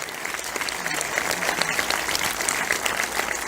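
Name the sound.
audience applause and cheers at film festival screening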